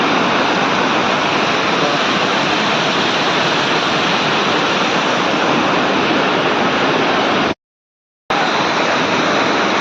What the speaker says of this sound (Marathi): तो बघा तिकडे धबधबा आहे